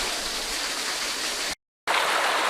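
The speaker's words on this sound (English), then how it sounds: "it's like a beautiful mini waterfall over here" Mini waterfall and stream in a Kauai forest, a steady, close hiss of rushing and splashing water, broken by a brief cut to silence before the flow resumes.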